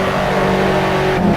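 Race car engine at Silverstone in a sim racing game, a loud sustained high-revving whine with a brief pitch drop near the end as it shifts, heard close and continuous.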